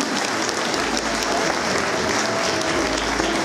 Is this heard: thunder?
no